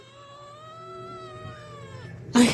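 A cat gives one long, drawn-out yowling meow that slowly trails off, close and clear. A brief burst of noise follows at the end.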